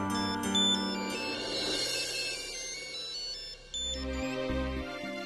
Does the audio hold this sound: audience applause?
no